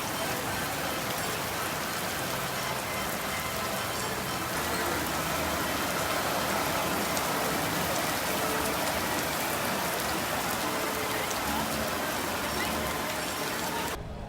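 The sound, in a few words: rain during a thunderstorm at Cedar Point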